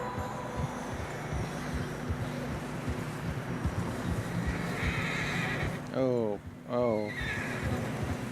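A horse in Red Dead Redemption 2 whinnies twice near the end, a strained descending neigh over steady wind and clopping hooves on a narrow high path, with a brief spoken exclamation.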